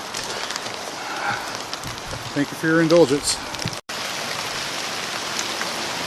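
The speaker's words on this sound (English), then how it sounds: "Driven in by the rain again" Steady rain falls outside in the evening, a constant hiss filling the whole stretch, with someone speaking briefly partway through before the rain continues alone.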